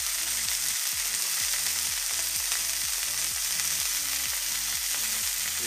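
Onions fry on an outdoor barbecue grill for breakfast, a loud, dense, continuous sizzle heard close up without talk, over a faint rhythmic low pulsing underneath.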